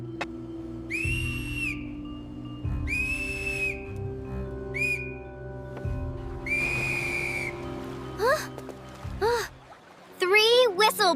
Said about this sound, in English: Three whistle blows.